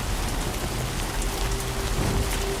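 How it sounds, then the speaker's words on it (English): Heavy rain drumming on surfaces in the video game Death Stranding 2, a steady close hiss of falling drops with a faint low rumble beneath and no speech. "Why is it still raining?"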